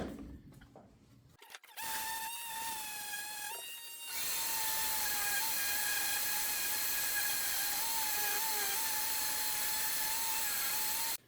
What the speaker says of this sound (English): That sander works good